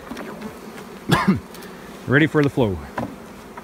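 Honey bees buzz at an open hive during a strong honey flow, a steady drone beneath a person speaking close to the boxes.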